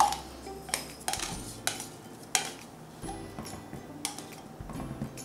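Soap being scraped out of a template mold during handmade soap making: a series of close, irregular scraping and clinking strokes, about eight sharp contacts spread across the moment, with no talking.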